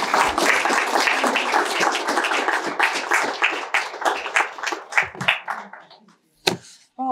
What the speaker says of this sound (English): Please join me in giving a warm welcome and round of applause for Beverly Soloway.